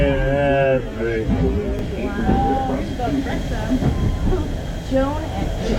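A Strasburg Railroad train passes with a continuous low rumble and rolling clatter, heard under people talking close by throughout.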